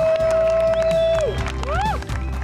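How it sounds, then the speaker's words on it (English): Wedding guests cheering and clapping for a newly married couple after the kiss, loud crowd noise with whoops and rising whistle-like cries over steady applause, close and lively. "Let's give them a big cheer."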